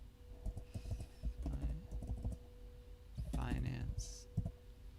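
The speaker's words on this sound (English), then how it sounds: "you can just type in the search bar" Keys are typed on a computer keyboard into a search bar, with short bursts of soft clicks mixed with a person talking nearby.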